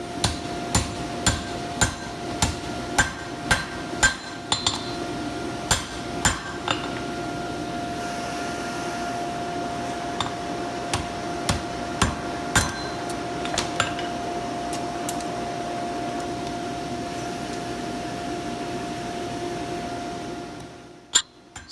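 A hammer rings on steel over an anvil while bending fork tines are shaped: sharp, evenly spaced metallic strikes over a steady background hum, coming in bursts and then stopping as the hum fades out.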